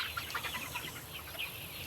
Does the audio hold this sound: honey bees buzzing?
no